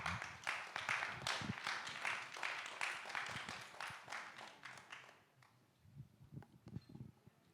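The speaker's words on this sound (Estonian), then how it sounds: "Tervitame teda ühe sooja aplausiga" An audience at a summer gathering gives a warm round of applause for an invited speaker, steady clapping for about five seconds that fades out, then the speaker begins talking.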